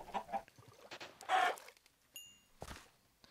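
A Minecraft chicken gives a few short clucking squawks in a quiet game scene, brief bursts spaced apart with soft game effects between them.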